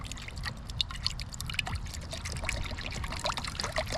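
Hydrogen peroxide poured from a bottle into a container for a skunk-odor wash, a soft continuous gurgling trickle with small bubbling splashes, close and moderately quiet, no voices over it.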